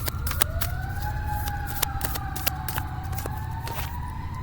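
A wailing emergency siren rises and falls steadily over a constant low rumble of traffic, with sharp clicks scattered throughout.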